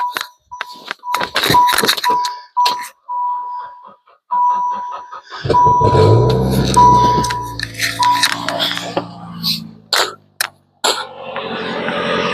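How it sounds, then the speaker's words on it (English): A battery booster gives a series of short electronic beeps at one steady pitch, a few longer tones, then clunks, clicks and brief handling noises close by. "It beeps up more when I press that button."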